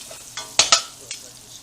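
Butter dropped into a hot pan for keto cooking gives a few short, sharp sizzling bursts close by, the loudest two in quick succession, then a softer flare fading into quiet hiss.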